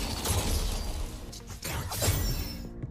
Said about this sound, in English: And the other one is the anime sword shing.